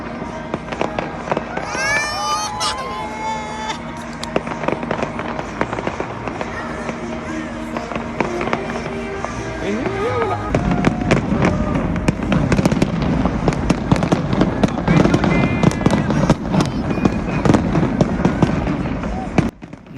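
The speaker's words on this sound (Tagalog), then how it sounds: "Napakagandang tingnan ang fireworks pag malapitan." New Year fireworks bursting up close in a rapid, continuous crackle of loud pops and bangs, building denser over the second half, with voices and crowd noise underneath.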